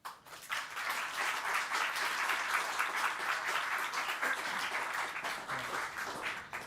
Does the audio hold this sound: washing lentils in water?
no